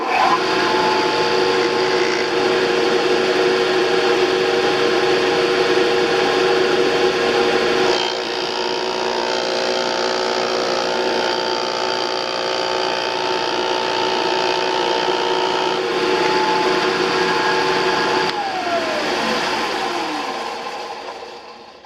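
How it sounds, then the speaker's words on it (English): A power grinder shaping a 2-inch compression adapter locking knob for an AP 130mm f6.3 GTX telescope gives a loud, steady whining drone that holds for about twenty seconds, shifts slightly partway, then winds down at the end, with no talk. "when you grind it, you should come up with a fairly flat face"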